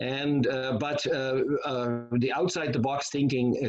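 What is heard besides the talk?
None of the usual background noises is heard.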